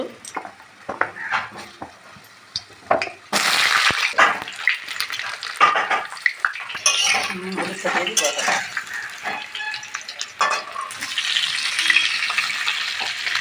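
Potatoes frying in mustard oil with salt and turmeric in a kadai, a steady sizzle with stirring and scraping of a utensil against the pan, loud and close throughout.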